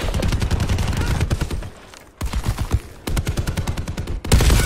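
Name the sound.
gunfire in video game Call of Duty Black Ops 4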